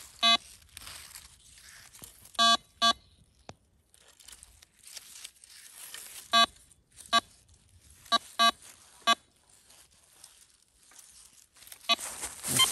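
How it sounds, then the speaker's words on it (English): A metal detector beeps during treasure hunting on chateau grounds, sounding short bright tonal bursts, some doubled, at irregular intervals over soft rustling and footsteps in the grass. "all this area is it's beeping."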